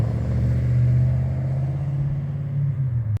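Deep, throaty rumble of an Australian V8 Holden Commodore muscle car passing by, loud at first and holding steady before easing off, heard alone with no voices.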